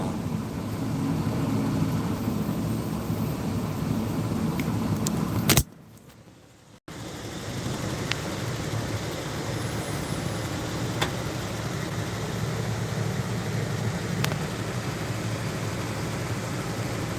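Steady broadband road and engine noise from a car driving down the road, continuous and close, with a brief near-silent dropout partway through and no talking.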